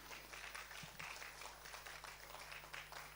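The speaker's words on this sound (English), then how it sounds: "I request everybody to please keep your hands clapping." Scattered audience clapping at a Metro Railway Kolkata technical seminar, steady and moderate, with a low electrical hum running underneath.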